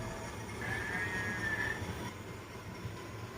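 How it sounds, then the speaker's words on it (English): A railroad switcher locomotive pulls a cut of cars, including a Santa Fe hopper and a boxcar, at a rail yard, with a low, steady rumble and a brief, faint wheel squeal partway through. "It's going to pull this cut of cars up to the feeder track"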